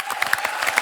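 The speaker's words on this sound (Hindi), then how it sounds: "और तमाम कलाकारों के लिए खुल के तालियां होनी चाहिए।" A studio audience on a TV comedy show applauds the artists with a brief, distinct run of individual claps, moderately close and without talk.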